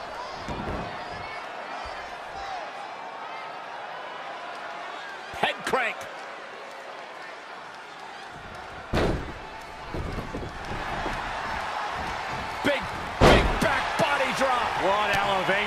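Heavy thuds of elbow strikes land in a WWE video game wrestling match before a Liverpool arena crowd, a few sharp impacts over a steady crowd roar, with a commentator talking throughout.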